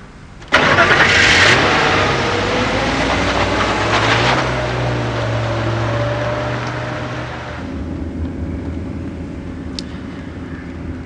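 A car engine cranks and catches abruptly, then runs loud and steady with some revving as the car drives off, the sound thinning and dropping in level near the end; no voices.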